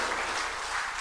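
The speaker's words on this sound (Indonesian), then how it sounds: "Tepuk tangan sekali lagi untuk Bapak Menteri." Dense applause from a crowd at a minister's speech, a steady wash of many hands clapping throughout, with no voices standing out.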